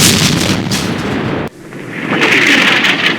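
Artillery fire in a war video game set in the Arab-Israeli war sounds as dense, loud booming and rumbling blasts that fill the clip, with a sharp break midway and then further heavy barrage noise.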